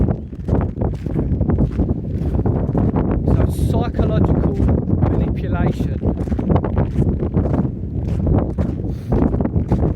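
Outdoor wind buffets a microphone with a constant low, rough rumble and gusty roar while someone talks steadily over it.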